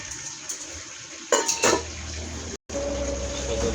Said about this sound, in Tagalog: Takpan natin ulit.